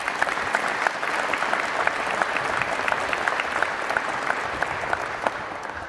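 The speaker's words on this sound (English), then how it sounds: "So get a round of applause for these Marines right here." Steady, dense applause from a crowd honoring Marines at a VMM-268 squadron relief and appointment ceremony, sustained at an even level for the whole stretch with scattered sharper claps.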